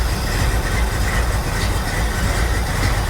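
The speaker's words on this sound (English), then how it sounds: "I just want to let it idle for a little while." A 1969 Plymouth Roadrunner, parked for 25 years, idles steadily just after its first start, a loud, continuous low engine rumble heard close up with no talk.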